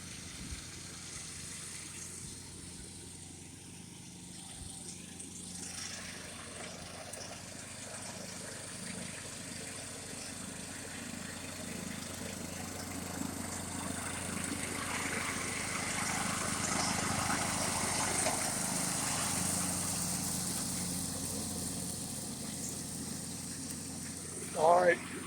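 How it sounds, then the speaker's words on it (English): A riding lawn mower engine drones steadily at a moderate distance while cutting grass, swelling slightly as it comes nearer, with voices faintly audible over it. "she's having fun just riding the lawnmower around"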